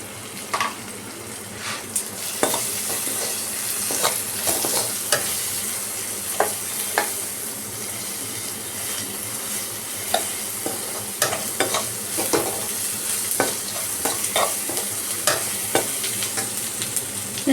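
Ground coriander and cumin fry in a pan with oil, a continuous close sizzle broken by repeated scraping and tapping of a spatula stirring at an uneven rhythm throughout.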